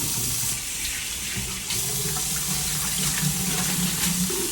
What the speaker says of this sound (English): I'm gonna rinse it, wash it out